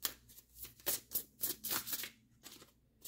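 Tarot cards shuffled by hand in a run of crisp, riffling bursts, close and alone, each burst a short papery flutter with small gaps between.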